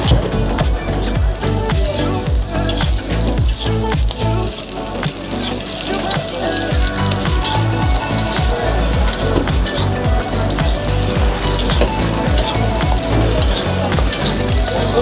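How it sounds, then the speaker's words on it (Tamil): Madurai-style bun parotta fries in plenty of oil on a concave griddle, a loud, dense, continuous sizzle with crackling spatter and clinks of a spatula throughout. "ஃபுல் அண்ட் ஃபுல் எண்ணெயில் பொரியிற மாதிரி தான் அந்த பரோட்டாவை வேக விடணும்."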